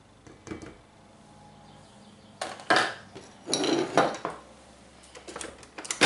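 Flour, salt and sugar being stirred together in a bowl for a chocolate-chip chinois, heard as close, uneven bursts of scraping and clinking that pick up after a quiet start, with no talk.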